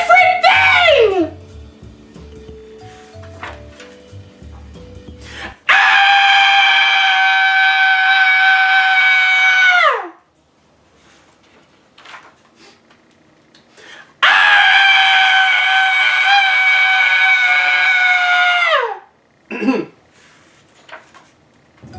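A human voice imitates a screaming latke, a potato pancake, in a dramatic reading: a short falling shriek, then two long, loud, sustained wails, each ending in a downward slide, separated by quiet pauses.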